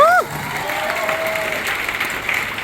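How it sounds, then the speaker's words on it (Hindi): Audience applause at a political speech in Bihar, a broad steady wash of many hands clapping that holds evenly throughout, following a brief whistle-like tone at the very start. "चलिए जोरदार ताली सभी के लिए।"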